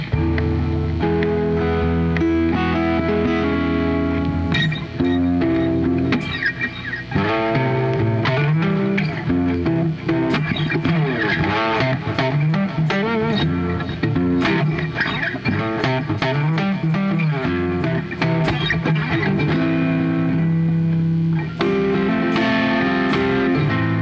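Stratocaster electric guitar with a contact mic pickup installed alongside its single coils, played loudly and continuously with strummed chords and percussive hits on the body, dense and sustained throughout.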